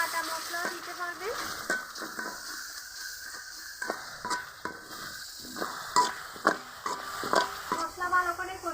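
Spice powders and chili powder are cooked down with a splash of water for an aair fish curry, a low sizzle broken by repeated sharp spoon-on-pan scrapes and clinks, close by.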